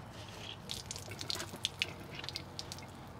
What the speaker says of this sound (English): I'm going to go ahead and open each one of these drains one at a time, and we'll let some of that antifreeze just flow out.